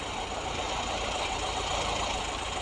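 A motorcycle engine idles in a steady, fairly quiet, continuous rumble with a faint knocking texture and no voices.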